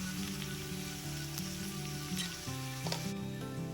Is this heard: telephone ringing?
no